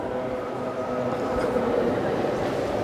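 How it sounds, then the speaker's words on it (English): Busy hall of Marburg main train station in Germany, a steady close wash of ambient crowd and platform noise with faint murmured voices throughout. "This is Marburg train station,"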